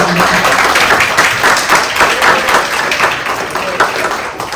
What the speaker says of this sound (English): she deserves the round of applause